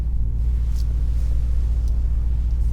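A 2022 Brabus 900 GLE Coupe, a tuned Mercedes GLE63 S, idles with a steady, deep, loud engine rumble heard from close by, with faint ticks over it and no talk.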